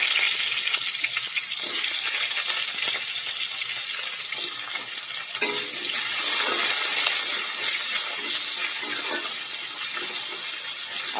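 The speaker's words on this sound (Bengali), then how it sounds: "এই দেখো আলুটা ভাজা, হালকা হালকা ভাজা হয়ে গিয়েছে" Potato pieces fry in oil with tempering spices in a pan, a steady close hiss and crackle that runs the whole time with scattered pops; no talking.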